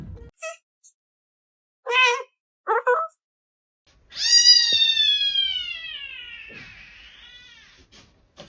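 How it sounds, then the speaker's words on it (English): A cat meows several times: short chirping calls first, then one long, loud drawn-out meow that slowly fades. "Cat."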